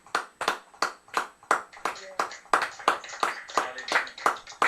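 A congregation claps in a steady, even rhythm to acclaim the word of the Lord, about two sharp claps per second, fairly close and lively, with voices mixed in.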